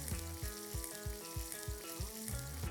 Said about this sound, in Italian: Aggiungo i cubetti di lardo e li faccio rosolare.